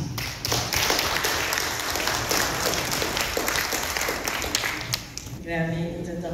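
Steady applause from a large crowd, dense clapping lasting several seconds before tapering off, with a voice starting to speak at the end.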